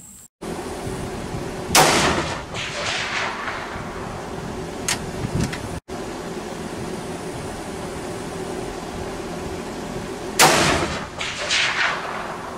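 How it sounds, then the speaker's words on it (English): A 7mm Remington Magnum rifle fires Hornady bullets outdoors: two loud, sharp gunshots about eight seconds apart, each with a booming tail echoing away over a steady background hum. "I think I'm going to shoot a couple of bullets of the Hornadies now."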